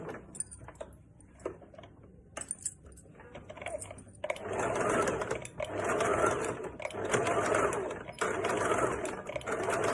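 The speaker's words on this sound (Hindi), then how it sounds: "अब इसके बाद एक यहाँ पे मैं चाप सिलाई मारूंगी।" A sewing machine runs steady, rattling stitches along the lining fabric of a princess-cut blouse. Quiet handling comes first, then the machine drives in several close, continuous bursts with brief pauses.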